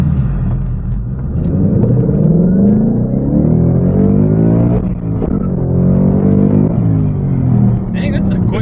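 A 2018 Ford Mustang GT 5.0 V8 engine roars loudly as it accelerates, pitch climbing through gears, while voices talk over it.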